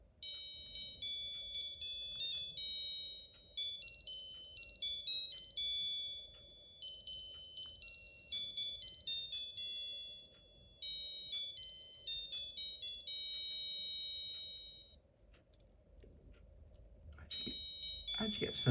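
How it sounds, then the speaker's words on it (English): A 1982 Casio digital watch alarm beeps in high, thin, rapid trilling bursts for about fifteen seconds, pauses briefly, then starts beeping again amid handling noise. "let's see if the alarm will work."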